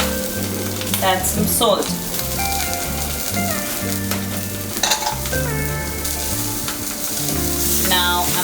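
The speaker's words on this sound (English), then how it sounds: "cook the same on medium to low flame for the next 5 minutes" A salmon steak fries in a pan over medium-low flame with a continuous close sizzle and crackle, while a voice speaks briefly and background music plays.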